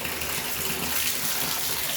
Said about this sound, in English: So I'm gonna just run the water and see if we can.